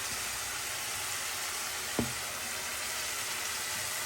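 Chicken leg pieces shallow-frying in a pan give a steady, faint sizzle, with one soft click of a utensil partway through and no voices.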